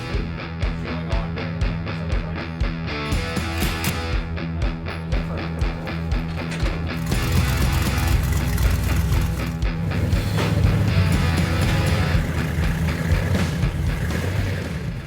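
A rock bouncer off-road buggy engine revving hard on a dyno to around 6,800 RPM, loud and close, with sharp throttle blips early that swell into a sustained heavy roar.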